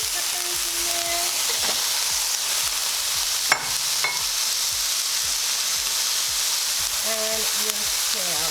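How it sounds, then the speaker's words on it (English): Peppers sizzle steadily in a hot pan, a constant crackling hiss with occasional clinks of a utensil stirring, and brief bits of voice come through now and then. "now you just want to throw your peppers in there."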